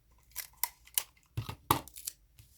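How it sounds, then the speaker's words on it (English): Small sharp scissors snipping sewing thread, several crisp separate cuts close up in a quiet room, irregularly spaced over a couple of seconds. "Cut the thread. My smaller scissors are sharper than my bigger ones."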